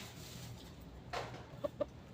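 A rooster gives a short cluck, then two quick clucks follow, over a steady low hum of background noise.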